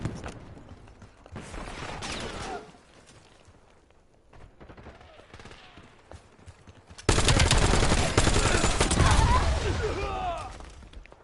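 Video game gunfire comes in two loud bursts of rapid shots, a shorter one early and a heavier, longer one in the second half, with quieter mechanical sounds between them.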